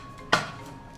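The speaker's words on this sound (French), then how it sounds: "J'insère le couvercle et le gobelet doseur" A lid and measuring cup being fitted onto a food processor bowl: one sharp plastic clack, close and crisp, then quiet.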